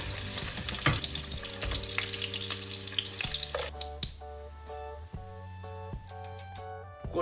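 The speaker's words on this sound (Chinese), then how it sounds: "排骨中小火不断翻炒，将其中的油脂和血水煎出。" Drained pork ribs sizzle and crackle in a pan over medium-low heat, stirred continuously so a spatula scrapes and knocks at intervals, with the frying hiss fading to a softer bubbling under background music, no talking.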